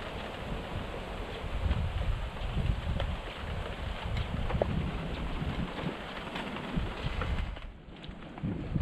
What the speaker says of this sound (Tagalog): Grabe naman ang hangin.